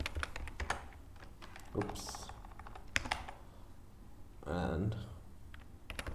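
Quick, uneven bursts of clicky keystrokes on a computer keyboard, close and fairly quiet, with a person talking softly between the typing.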